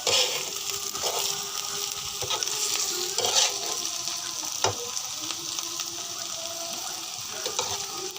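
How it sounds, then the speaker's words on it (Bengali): Bottle gourd seeds and shrimp fry in a pan with a constant close sizzle, broken by a few sharp scrapes and clinks of stirring, no voices. "আমি কিছুক্ষণ আর দুই মিনিট ভেজে নেব ভেজে নেওয়ার পর উঠিয়ে ফেলব"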